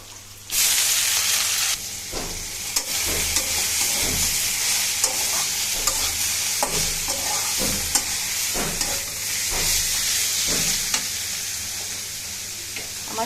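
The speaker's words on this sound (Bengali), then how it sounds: "এটাকে আমি ভালো করে ভাজা ভাজা করবো" Greens frying in a pan with garlic, dry and green chilli, onion and black cumin: a steady loud sizzle throughout, broken by repeated scraping stirs of a utensil, close up with no talk.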